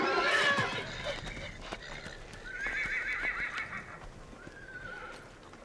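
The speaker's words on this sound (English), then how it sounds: "Frustrated, the beautiful black is ready to do battle. He lashes out at any horse venturing near his prison walls." A frustrated black mustang stallion held in a pen among other wild mustangs lets out loud, shrill whinnies and neighs with some hoof clatter, while a narrator's voice runs over parts of it.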